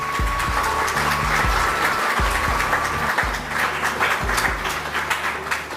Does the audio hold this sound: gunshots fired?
no